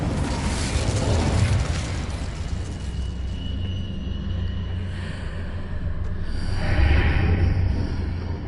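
The Incendio fire spell from Hogwarts Legacy, a loud, rumbling blast of flame that roars continuously for several seconds, swelling twice with crackling bursts over a deep, sustained low rumble.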